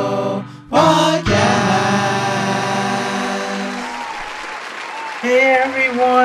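Cheering and applause burst in over a jingle with strong tonal music. The crowd noise swells and holds under the music at a loud level, and a voice is also present.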